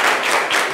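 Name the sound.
audience applause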